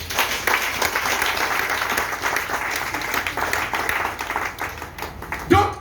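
A church congregation applauding, a sustained wash of many hands clapping with voices mixed in, continuous and fairly loud until a sharp sound at the very end.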